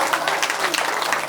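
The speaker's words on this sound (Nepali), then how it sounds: "यसका लागि पनि एकपल्ट ताली बजाउनु।" A crowd gathered for a Krishna katha recitation in Bhadrapur, Jhapa claps together in a brief, lively burst of applause, brisk, dense and fairly close.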